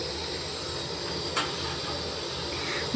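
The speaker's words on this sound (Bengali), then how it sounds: "তার জন্য প্রথমেই এখানে আমি গ্যাসটা অন করে দুধটা ঝাল দিতে বসিয়ে দিয়েছি। প্রথমে দুধটা ভালো করে ফুটিয়ে নেব।" A gas stove burning under a pot of milk set to boil gives a steady, faint hiss with one brief higher-pitched tick midway, and no talking.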